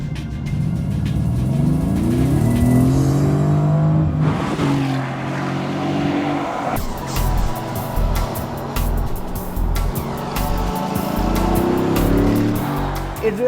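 A Mercedes-AMG GT S V8 revs hard while driving, its engine note sweeping up through several climbing surges and shifts, loud and close from inside the car, with no talking over it.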